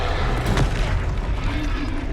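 A Confringo spell from Hogwarts Legacy bursts in a heavy, rumbling boom that fills the clip, layered with dense game noise and combat clutter.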